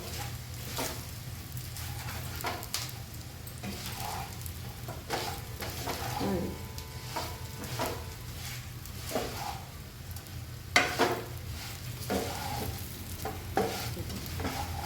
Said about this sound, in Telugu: బాగా ఇట్లా వేపుకొని కలిపి మొత్తం కాకరకాయల పైన కూడా కారం బాగా పట్టేటట్టు ఇట్లా తిప్పుకుంటే